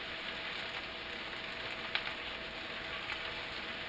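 Cabbage frying in bacon grease in a pan, a steady broadband sizzle with faint crackles and one brief pop, continuous and fairly quiet throughout with no talking.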